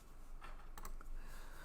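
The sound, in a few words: typing on a computer keyboard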